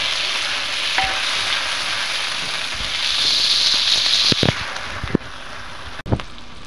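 Bean sprouts with onion and tomato sizzle steadily in a hot pan, a continuous frying hiss with a few sharp clicks and scrapes of stirring toward the end.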